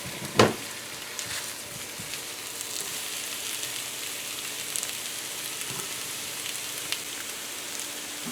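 Boiled breadfruit fries in a pan over heat, giving a steady hissing sizzle with scattered pops and crackles, fairly close and without talk.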